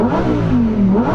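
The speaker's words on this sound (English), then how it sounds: "Let's move to the Italian car, which I think is going to be very vocal." An Italian Lamborghini Performante supercar engine revs at the start line before a drag race, a loud, steady, close rasping roar with rising and falling pitch through the whole moment.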